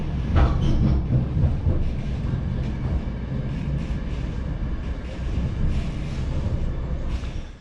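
A passenger train in the Kaliningrad region rumbles along the rails, a steady loud roar with rhythmic wheel clatter heard close up from onboard, no talking.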